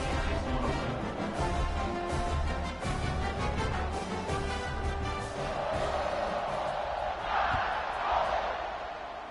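Stadium crowd roaring at kickoff in a College Football 26 online franchise game between Florida State and Alabama, a dense, steady wall of cheering that swells toward the end.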